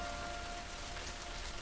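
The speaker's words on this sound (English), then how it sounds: "The rain has come just in time." Spring night rain falls steadily on surfaces in a faint, even patter, with a soft tone humming underneath and no voices.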